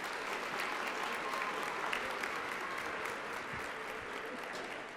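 Steady applause from a plenary-session audience at a research conference, a dense even wash of clapping that holds for the full stretch with no voices on top.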